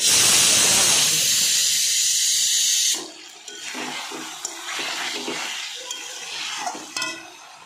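Chicken with spices fries in hot oil in a pan in a chicken-and-potato dish, first with a loud, steady, hissing sizzle, then a softer crackle with light stirring scrapes and small pops.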